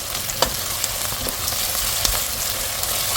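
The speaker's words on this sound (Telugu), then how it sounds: "ఇప్పుడే ఇది కొంచెం ఆయిల్లో ఫ్రై కావాలి" Ginger garlic paste and turmeric frying in hot oil for Telangana-style chicken fry, a loud, dense, continuous sizzle with occasional spoon scrapes, close up and without voices.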